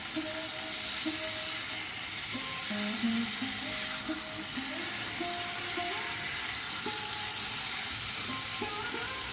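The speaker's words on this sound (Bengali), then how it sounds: "এদিকে চিকেনটা কিন্তু আমাদের খুব ভালোভাবে কষানো হয়ে গেছে" Chicken pieces fry steadily in a pan for a Bengali palong (spinach) chicken, a constant broadband sizzle with occasional stirring and faint tonal sounds in the background, no one speaking.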